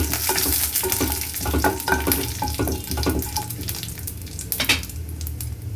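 Spices sizzle and crackle steadily in a hot pan while being roasted for sambar, with scraping stirs and a few clinks, no voices.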